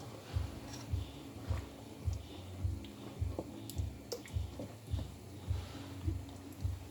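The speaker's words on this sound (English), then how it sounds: "Then you stir." A spoon stirs party jollof rice in a pot with repeated soft, wet squelching scrapes in a steady rhythm, each stroke a short thick pulse close by.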